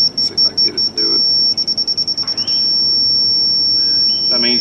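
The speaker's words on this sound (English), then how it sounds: "If you got a sustained beep like that, let's see if I can get it to do it." A laser level receiver on a shop build site gives a few quick bursts of high beeps, then holds one steady, continuous tone. A voice talks over it.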